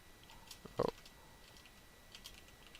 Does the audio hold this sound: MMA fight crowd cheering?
no